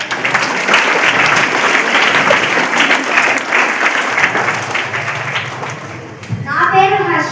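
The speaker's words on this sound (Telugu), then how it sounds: "అందరు కలిసి చప్పట్లు కొట్టండి." Schoolchildren clap together for a correct quiz answer, a dense, loud burst of applause that holds steady for several seconds before fading, with a voice speaking at the end.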